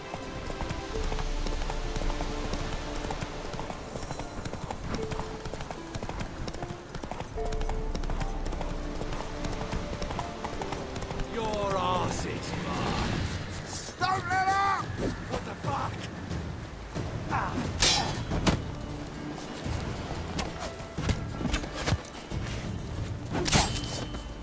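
Roach, Geralt's horse in The Witcher 3, gallops with steady hoof clip-clop layered over game music and ambience, hooves thudding in a continuous rhythm with brief tonal swells.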